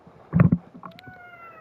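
A short, close cat meow, one brief vocal burst in a quiet room, followed by faint high tones.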